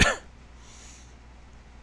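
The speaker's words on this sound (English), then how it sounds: "Sorry about the coughing." A single short cough bursts out at the start, close and fairly loud, then fades into quiet room tone with no talking.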